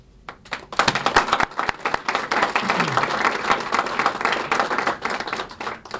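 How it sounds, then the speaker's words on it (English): Audience applause at a governor's budget victory event in West Palm, a crowd clapping steadily for several seconds with scattered louder claps, fairly close and continuous. "I think everybody deserves a round of applause for getting that accomplished"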